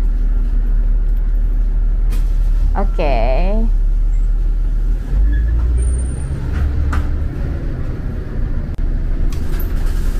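A city bus in Malaysia rumbles steadily from inside the cabin, its low engine drone continuous, with a brief rising squeal partway through and people speaking briefly.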